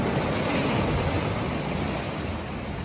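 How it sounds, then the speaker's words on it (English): Ocean waves washing onto a rocky intertidal shore with aggregating anemones, a continuous broadband rush of surf with wind buffeting the microphone, close and loud, easing slightly toward the end. "Ooh, we got a big wave coming."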